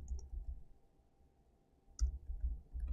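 Mouse clicks while working in Adobe Illustrator: two short, sharp, close clicks, one near the start and another about two seconds later, over a faint low hum.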